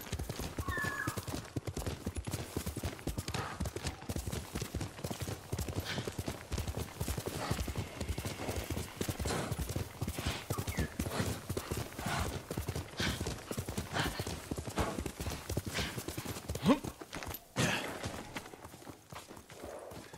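A horse gallops in the Ghost of Tsushima video game with rapid, steady clip-clop hoofbeats close by, a brief whinny, and running continuously for about twenty seconds, with occasional game sounds layered in.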